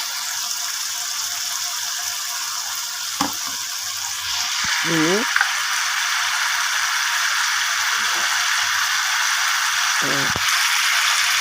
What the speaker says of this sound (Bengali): চিনি আর ভাজা জিরার গুঁড়ো দিয়ে মশলাটা ভালো করে কষিয়ে নেব